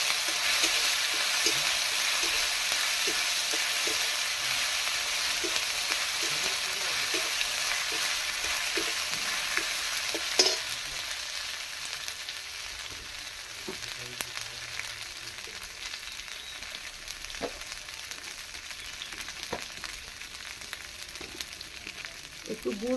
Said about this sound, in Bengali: একটু আদা পিছিয়ে রেখেছিলাম সেগুলো দিয়ে দিলাম লাল লাল ভেজে নেব